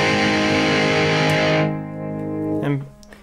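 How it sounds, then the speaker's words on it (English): Heavily distorted electric guitar rings out a sustained chord, then cuts off and a quieter, cleaner note follows briefly. "it kicks down the distortion"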